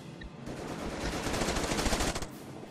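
Rapid machine-gun fire rattles in a World War II strategy game, Company of Heroes, as a dense burst of overlapping shots that builds for about two seconds and then cuts off.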